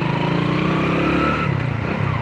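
A Honda Win motorcycle engine revs up close, a loud rough buzzing whine that rises and then eases off in pitch, alone and continuous.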